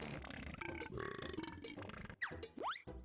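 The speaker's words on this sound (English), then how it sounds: "It doesn't just burp, but it farts as well." A creature in the video game Banjo-Kazooie lets out several exaggerated cartoon burps and grunts, ending with a swooping, boing-like gulp; the effects are loud, close and busy, layered over game music with no talking.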